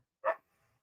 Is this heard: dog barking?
yes